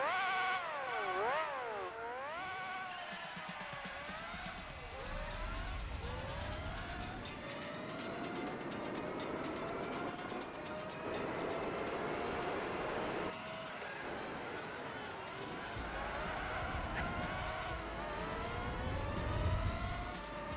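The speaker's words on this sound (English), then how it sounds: "It may just be this car is quite loud." A loud car engine revs in an endurance race in Gran Turismo 4, its pitch sweeping up and down through gear changes and then holding a steady droning whine throughout.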